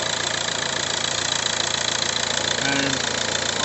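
Car engine idling under the bonnet while an alternator charging voltage is checked, a steady mid-pitched drone with even pulsing throughout and faint talk over it.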